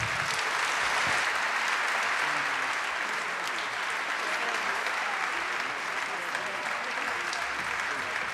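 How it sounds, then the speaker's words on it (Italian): Dense, steady applause from a large theatre audience at the Teatro Politeama in Palermo fills the whole stretch, loud and sustained without pause. "Un caloroso applauso per Giovanni Matteliano."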